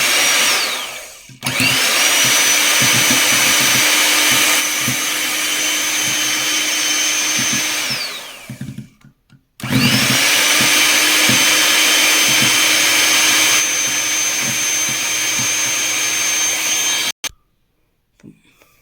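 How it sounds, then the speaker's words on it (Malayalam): An electric hand mixer beats eggs with vanilla essence for a carrot and date cake, whirring loudly and steadily in two long runs separated by a brief pause, with the pitch shifting slightly as it works. "നമുക്ക് മുട്ട ബീറ്റ് ചെയ്തെടുക്കാം."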